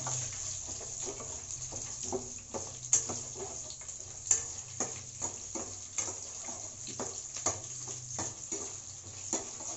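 Chana dal and peanuts fry in oil with mustard seeds, curry leaves and red and green chillies, giving a steady close sizzle broken by frequent scraping stir strokes and occasional sharp pops.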